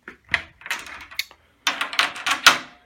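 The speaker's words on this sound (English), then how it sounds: "That's the door lock." Bathroom door lock being worked by hand, a close series of short clicks, rattles and metallic clacks in two bursts with a pause between.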